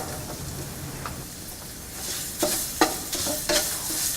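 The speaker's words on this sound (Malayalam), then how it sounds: "ഇതിലോട്ട് എടുത്തു വച്ചിരിക്കുന്ന കറിവേപ്പില, വറ്റൽമുളക് എന്നിവയിട്ട് വഴറ്റുക." Curry leaves and dried chillies sautéing in oil give a steady close sizzle, broken by several sharp stirring scrapes in the second half.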